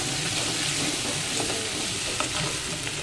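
Onion paste with spice masala sizzles steadily in a hot pan, a dense close frying hiss with faint stirring scrapes now and then.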